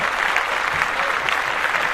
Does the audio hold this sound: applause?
yes